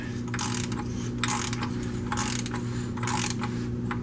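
A hand wrench ratchets in four quick bursts with short pauses between, close and clear, while tightening during an oil change on a 2009 Scion XD.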